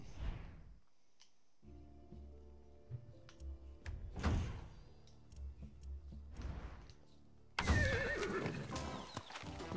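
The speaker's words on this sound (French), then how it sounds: "Livraison de cheval." A horse in the video game Far Cry 6 gives several loud neighs and whinnies between close hoof clip-clops and soft clicks, ending with a burst of louder clattering.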